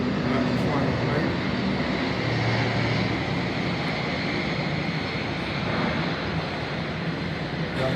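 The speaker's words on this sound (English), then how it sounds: "I think that's an airplane." An airplane flies overhead near Southampton Airport, heard from a cruise ship: a steady, broad roar that holds at an even level for the whole stretch, with a faint murmur of voices underneath.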